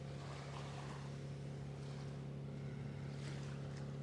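Sea waves wash onto a beach at Pattaya as a steady, faint roar of surf, with gentle surges and a low constant hum underneath and no voices.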